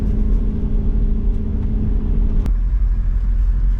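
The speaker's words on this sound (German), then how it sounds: "Wir fahren in den See hinein." Off-road car driving into a lake on a jungle track in Mozambique, a loud steady engine rumble close by, with a sharp knock midway and the tone dropping afterward.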